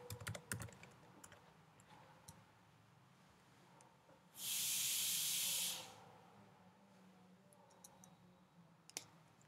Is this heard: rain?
no